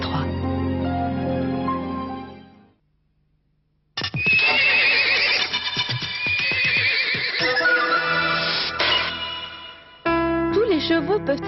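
Horses neigh loudly and close by in several long, shrill whinnies, with a brief silent gap early on and a final burst of calls at the end.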